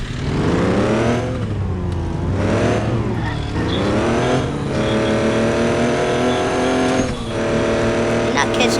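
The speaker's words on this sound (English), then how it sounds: "I just get my truck and drive away because his truck's slower than mine." Racing-game truck engine sounds: revving, rising and falling pitch with gear-shift sweeps and brief tire squeal, loud and continuous, with voices talking over it throughout.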